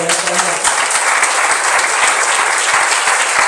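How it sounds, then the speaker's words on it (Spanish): A church congregation claps steadily together in praise, dense and loud applause filling the space for a few seconds, with faint voices mixed in. "¿Cuánto le da un aplauso al Señor?"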